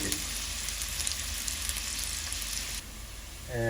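Onions frying in a pan for a beef curry, a loud, steady close-up sizzle that thins slightly near the end.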